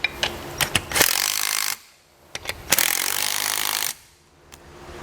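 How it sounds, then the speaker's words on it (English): A socket ratchet snugs down air helper spring bolts on a 2014 Ford F-250, giving two long runs of rapid, loud clicking, each followed by a brief pause, with a few sharp taps of metal before each run; no speech. "Once I have these hand tight, I'll come back with my socket and snug them down."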